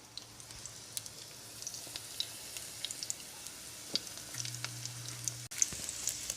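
Food crackles softly in a deep fryer, a quiet continuous hiss dotted with small pops and spatters, plus a brief low hum partway through.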